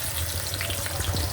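Onion frying in hot oil in a wok, a loud, close, steady sizzle with faint crackling and an occasional stir, no voices.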